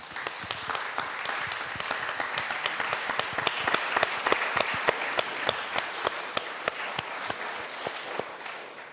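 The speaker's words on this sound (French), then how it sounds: "On va tous s'applaudir" A conference audience claps steadily for several seconds, dense applause that swells slightly in the middle and stays even throughout, with no speech over it.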